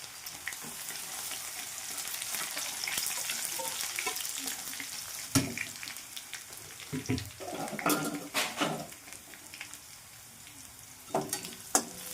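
Puffed rice chivda fries in a pan with mustard seeds and crushed cumin, a continuous close sizzle broken by scattered clinks and scrapes of stirring, growing busier toward the end.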